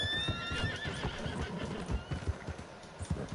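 Horse in the Red Dead Redemption video game whinnying over a steady clip-clop of hooves, close and fairly loud, with a few sharp hoof thuds standing out near the end.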